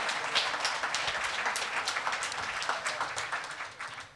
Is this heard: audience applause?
yes